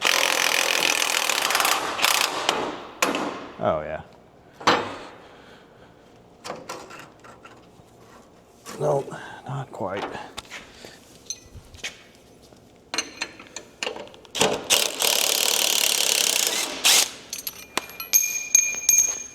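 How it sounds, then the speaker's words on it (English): A wrench pulls a bolt from the rear shackle hanger of a Chevy 1500 pickup, giving irregular metallic clanks, scrapes and ratcheting knocks in bursts, with someone briefly speaking between them. "we'll also use our wrench, put it behind the head of the bolt so we can pull the bolt out as well"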